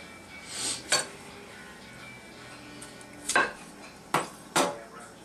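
Potato being pushed across a dull adjustable mandoline slicer, giving four separate short scraping strokes, each with a quick clink of the blade, fairly close and with quiet pauses between them.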